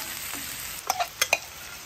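Onions, pepperoni and salami sizzle quietly on a griddle, with a few sharp spatula clicks and scrapes near the end.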